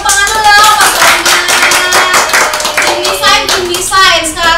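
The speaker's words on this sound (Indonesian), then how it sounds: "Oke, tepuk tangan dulu Pak Dwina." A group claps hands at an intern chat session at Rumah BUMN Jakarta, steady loud clapping for a few seconds mixed with some voices.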